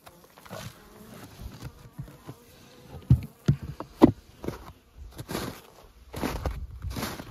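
Honeybees at a hive in cold, snowy weather give a faint, low hum, broken by a few sharp nearby knocks and rustles, with no talking.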